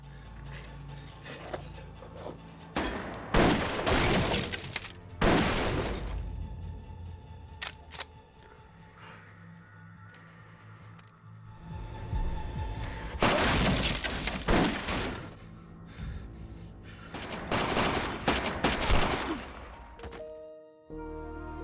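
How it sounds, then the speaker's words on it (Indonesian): A movie shootout heard as loud bursts of gunfire in clusters, sharp cracks and fusillades separated by quieter stretches with scattered clicks and debris, building again into heavy volleys near the end. "Dan Han pun kembali melayangkan tembakannya."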